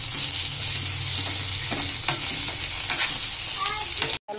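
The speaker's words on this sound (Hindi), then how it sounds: "चटनी में आलू डाल दें। इसी में हम आलू को फोड़ लेंगे अच्छे से।" Boiled potatoes being mashed and stirred into a peanut chutney in a pan, giving a steady, close scraping and sizzling texture with soft knocks and scrapes throughout, and no talk.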